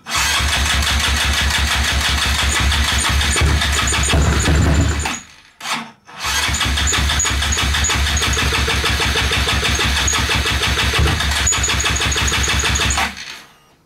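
A Honda Grom motorcycle engine runs close and loud under held throttle, struggling to idle; it dies briefly midway, sputters, then restarts and keeps running before shutting off.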